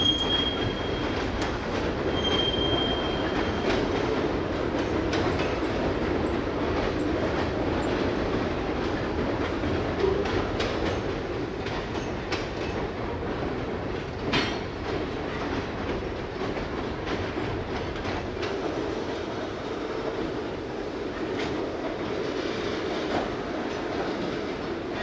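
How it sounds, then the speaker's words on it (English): Hump switcher locomotive in a foggy Pan Am rail yard at East Deerfield, pulling a heavy string of freight cars; a steady continuous rumble of wheels and cars with brief squeals and clicks throughout. "the hump switcher is seen pulling cars from this morning's BFED"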